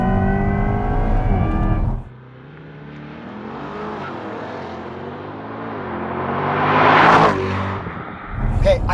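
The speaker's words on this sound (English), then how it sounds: "I should probably do a launch control." A 2024 Chevrolet Corvette E-Ray hybrid making a launch-control start: the engine drops, then builds in a rising, roaring acceleration through gears for several seconds, loud and close, with a brief voice.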